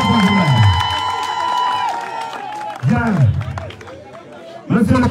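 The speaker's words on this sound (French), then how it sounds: "Applaudissez pour vous-même" A crowd at a political campaign rally in Minvoul cheers, claps and chants in bursts, loud rhythmic shouts rising and falling with pauses between, with a voice amplified over the crowd.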